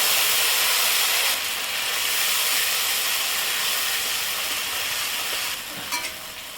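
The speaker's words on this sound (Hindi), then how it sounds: "अब इसमें हम डाल दे रहे हैं मसाला जो हमने पीसा था" Freshly ground masala sizzles loudly in hot oil seasoned with panch phoron and hing while aubergine curry is cooked, a dense continuous hiss with faint stirring scrapes near the end and no speech.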